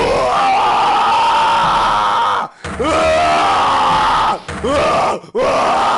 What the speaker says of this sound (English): I've heard that scream before